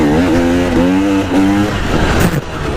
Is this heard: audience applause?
no